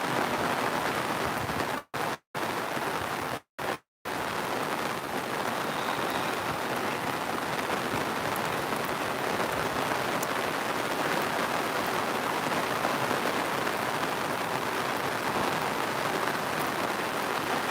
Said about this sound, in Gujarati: હવે તો ખૂબ વધારે પડતો વરસાદ થઈ ગયો છે